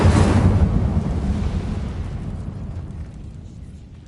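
An Incendio fire spell cast in Hogwarts Legacy erupts in a loud, booming burst of flame that rumbles and fades away slowly over several seconds.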